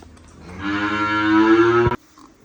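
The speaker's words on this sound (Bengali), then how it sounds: "পরবর্তী ছয় নাম্বার গরুটা আমরা দর্শকদেরকে দেখাই" A Friesian dairy cow at a farm gives one long, loud, close moo that swells for over a second and then cuts off abruptly, with quiet surroundings before and after.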